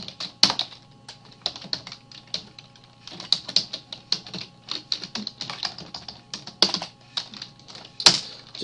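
Fingers type on a computer keyboard while someone writes HTML ordered-list code, producing close, crisp key clicks in uneven bursts with a few sharper, louder taps, heard alone without talk.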